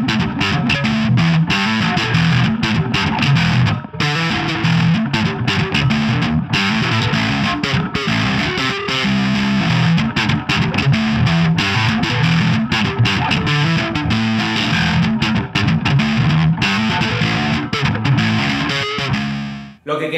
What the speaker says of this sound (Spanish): el slap con distorsión